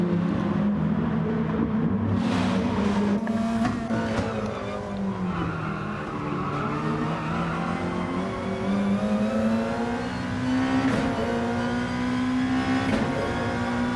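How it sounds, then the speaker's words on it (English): A Gran Turismo Gr.2 race car at Fuji drones steadily at moderate revs without being revved out, its engine note rising and falling gently through gear changes, loud and continuous with faint tyre noise and no talk. "definitely fuel saving because I'm not revving out the engine here"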